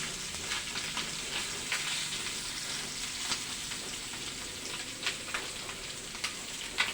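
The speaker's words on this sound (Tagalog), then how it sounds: "Nagluluto po si Nanay Nelly ng pork steak" Pork steak sizzling in a pan on a home stove, a steady dense crackle with scattered louder pops throughout, close and without talk.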